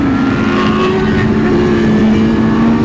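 Sport motorcycle engines, a Kawasaki H2 or Honda Fireblade in a large biker group ride, hold a loud, steady drone with a sustained engine tone throughout, no talk.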